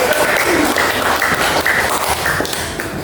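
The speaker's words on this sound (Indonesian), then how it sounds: "ya tepuk tangan semuanya guys." A group at an end-of-semester school presentation applauds, a dense burst of clapping with some table taps and thumps that stays fairly loud and constant for a few seconds.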